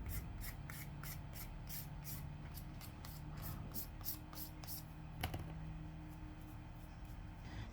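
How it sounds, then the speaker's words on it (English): Alcohol sprayed from a spray bottle onto a craft badge holder gives a run of quick, regular hissing bursts, fairly close and soft, with a few small clicks and handling noises in between. "you just spray it with some alcohol"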